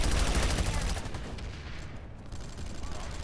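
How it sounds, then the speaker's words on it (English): A light machine gun in a video game fires a fast, loud burst for about a second, then the noise trails off into a fading rumble with faint voices. "It's an actual LMG."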